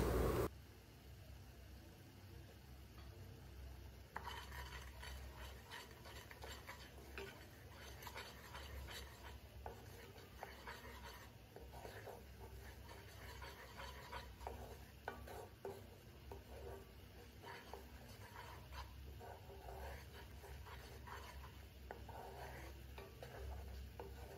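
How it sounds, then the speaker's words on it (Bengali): Masala for a prawn ghee roast being stirred and sautéed in a pan with a splash of water, giving faint, irregular scraping stirs over a soft, steady sizzle. "তো মশলাটা একটু ভালো মতো কষে নেব।"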